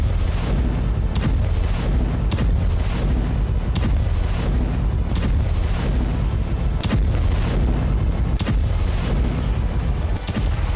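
Repeated heavy booms from a missile strike on an Israeli military base, sharp blasts every second or two over a constant roaring rumble, loud and dense throughout with no voices.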